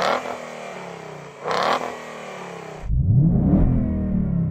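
A tuned Ford Mustang engine revs hard and loud twice, bouncing against a soft rev limiter, then drops away and swells into a deep, roaring rev that rises again close by.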